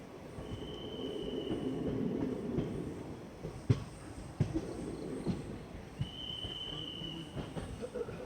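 A passenger train on the Vijayapura to Mangalore line through the Sakleshpur ghat in monsoon rumbles steadily with wheel squeals and clanks, hauled by a main locomotive and two banker locomotives; a faint voice is audible at times.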